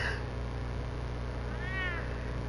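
A cat meows once, moderately loud, in Batman: The Telltale Series, a single drawn-out call heard over a steady low background hum.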